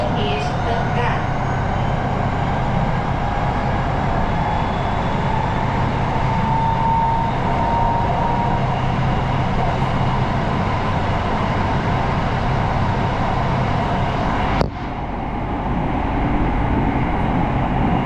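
A new Vietnamese metro train running between stations, a steady low rumbling roll with faint whine, constant and loud inside the car, broken near the end by a sharp clunk.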